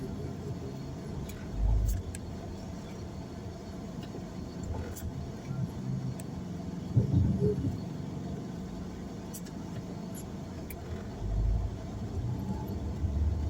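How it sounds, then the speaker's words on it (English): Town road traffic on a weekday morning, a steady low rumble of passing cars with engines swelling and fading, a few louder thumps, and faint ticks and murmurs in the background. "And this is the traffic all around."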